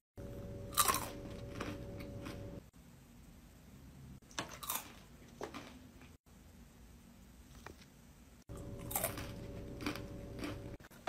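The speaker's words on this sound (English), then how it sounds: "the crunching's gotta stop" Loud, close crunching from someone eating, heard in three or four separate bursts of noisy chewing broken by quieter gaps.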